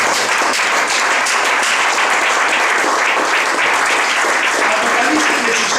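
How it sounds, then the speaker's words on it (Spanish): A church congregation gives loud, sustained applause, a dense and even wash of many hands clapping at once that fills the room throughout. "Denle un fuerte aplauso al Señor que merece la gloria."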